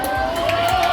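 A crowd at an Olympic flame relay event in Cambrai applauds loudly in one short burst of dense clapping and cheering.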